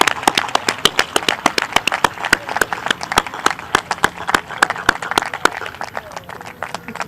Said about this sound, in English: Let's give these fine young people a round of applause.